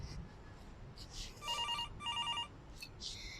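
A telephone rings faintly with two short electronic bursts, followed by a softer chirp, in a quiet room.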